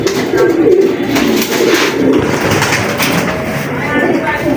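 A black checker pigeon coos close by with soft, repeated throaty calls over a rustling background, and a voice can be heard faintly beneath it.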